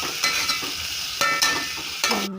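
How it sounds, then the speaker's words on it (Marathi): A spoon stirs cluster beans in hot oil with red chili powder in a pan, giving several distinct scraping knocks against the pan over a steady background sizzle. No one speaks. "आता हे हलवून घेते."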